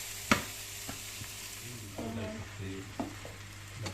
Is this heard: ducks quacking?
no